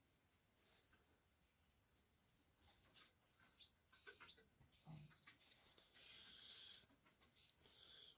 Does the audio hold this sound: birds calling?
yes